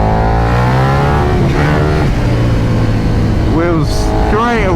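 A KTM 1290 Super Duke R motorcycle accelerating hard in third gear, its engine note rising loudly under a rider's continuous talk, with rising revving sweeps near the end.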